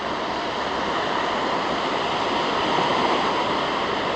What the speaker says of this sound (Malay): Ombak macam tak berapa ombak.